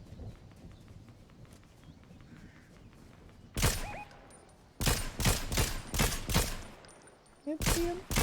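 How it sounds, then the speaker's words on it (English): Bursts of gunfire ring out in an online shooter game, a faint stretch of scattered pops giving way to loud rapid volleys and a few separate shots, with no talk over them. "Who's shooting everywhere?"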